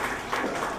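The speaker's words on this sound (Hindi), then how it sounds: "एक बार जोरदार तालियां आपके लिए।" An audience applauds at a Teachers' Day award ceremony, with steady dense clapping filling the whole brief moment.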